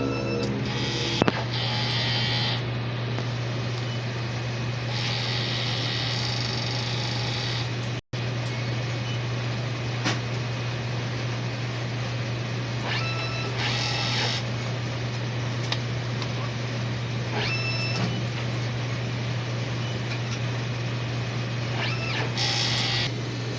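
DTF printer running a print head cleaning cycle, with a steady motor hum and intermittent whirring and clicking mechanism bursts.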